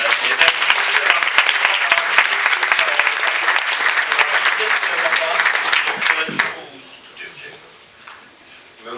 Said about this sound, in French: je voudrais encore un tonnerre d'applaudissements pour ce jury merveilleux